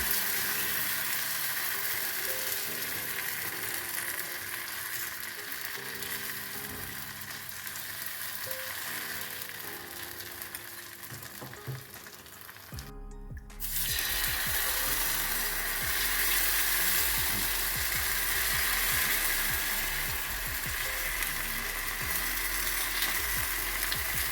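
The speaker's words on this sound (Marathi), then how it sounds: "पॅन गरम झालेलं आहे, आणि आता हे बॅटर टाकायचं." Rice and wet garlic batter hits a hot oiled pan and sizzles strongly, a loud steady frying hiss that jumps up midway after a brief quiet gap and continues alone.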